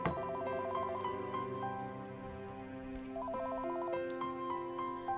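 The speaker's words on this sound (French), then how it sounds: "Le téléphone a sonné." A telephone rings with a repeating electronic trill in bursts, steady and fairly close, with a continuous tonal background underneath and no talking.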